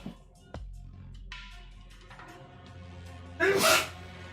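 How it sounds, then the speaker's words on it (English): A single sharp sneeze bursts out near the end, loud and close, after a stretch of quiet room tone. "Hold on, I gotta sneeze."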